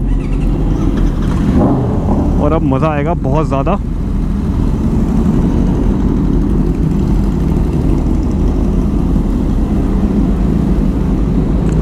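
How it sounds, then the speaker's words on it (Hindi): Several motorcycles, a Honda CBR among them, rumble at idle in a group before a Sunday ride, a loud and steady low engine drone throughout, with someone speaking briefly over it. "सारे अपनी बाइक स्टार्ट कर रहे हैं"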